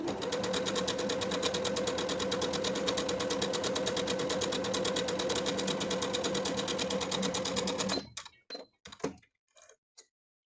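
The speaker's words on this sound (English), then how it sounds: "I'm going to take it to the sewing machine and sew basting stitches along the top edge" A sewing machine runs steadily, stitching long basting stitches along the top edge of a fabric ruffle tier for a summer dress, a loud continuous whir for about eight seconds before it stops with a few short clicks and knocks.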